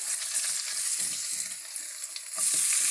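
Eggs fry in a hot pan with a continuous bright sizzle. Soft stirring or scraping taps sit underneath, and the hiss swells louder toward the end.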